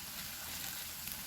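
Eggs frying with potatoes in a hot pan, a continuous bright sizzle with a soft crackle throughout, close and fairly quiet, no voices.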